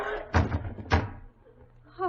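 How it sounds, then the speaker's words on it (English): Radio drama sound effect of someone falling against a front door: two heavy, close thuds about half a second apart, followed by quiet and then a voice starting. "Sounded like someone falling against the front door."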